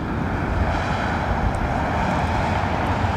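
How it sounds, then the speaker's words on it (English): Roaring thrust reverser rush from an airliner, a Boeing Dreamliner, landing at London Heathrow, a loud steady broadband blast of air and engine noise held throughout with slight wind buffeting and no voices. "sound that it makes of the air passing out of the reverser mechanism"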